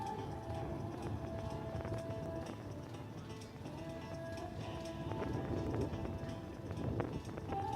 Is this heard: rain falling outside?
no